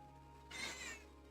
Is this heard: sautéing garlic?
no